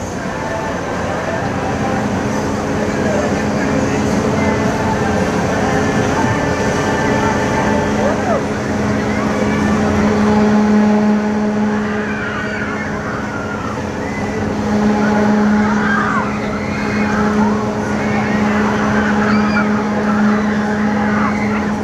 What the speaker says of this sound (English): So here goes, a Huss Flipper.